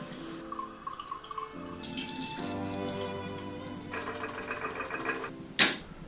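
Warm water runs and splashes from a tap into a sink for several seconds to pre-soak film before developing, with a sharp knock near the end.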